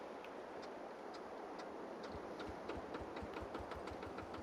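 A small micro tractor engine in the Farming Simulator video game runs steadily with a rhythmic ticking chug, growing slightly louder and more pronounced after the midpoint, with no talk over it.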